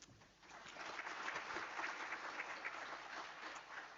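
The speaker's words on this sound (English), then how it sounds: "Give a round of applause to our presenter." Audience at a national records management conference applauds a presenter, a steady, dense wash of clapping that swells quickly after a quiet start and holds for several seconds.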